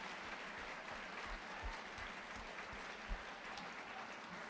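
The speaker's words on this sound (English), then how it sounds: "Yeah, round of applause." An audience at a youth coding challenge event claps steadily, a dense, fairly distant and faint patter of applause that holds evenly throughout.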